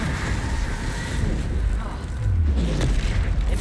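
A fire spell cast in the Hogwarts Legacy video game gives a loud, roaring whoosh with low rumbling booms over continuous wind-like noise, swelling toward the end.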